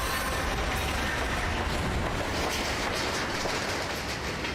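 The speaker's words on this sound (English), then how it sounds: "That's a train." A train rumbles past in the video game Alpha Protocol, a loud, continuous roar with faint rhythmic clatter of wheels on rails, steady throughout.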